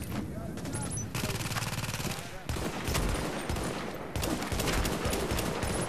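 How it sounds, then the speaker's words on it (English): A mounted gun turret in The Division's Dark Zone fires rapid bursts of automatic gunfire, loud and continuous, with short breaks between volleys and a player's voice under the shots. "Put down the gun turret."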